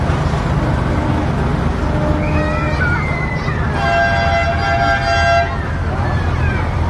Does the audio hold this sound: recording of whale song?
no